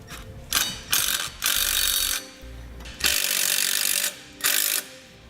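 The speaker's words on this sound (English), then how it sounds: "secure it with the self-tapping screws that we provided" A power driver sinks self-tapping screws to fix a wiring bracket on a 2013 Jeep Wrangler, whirring in about six short, close bursts of varying length separated by quiet pauses.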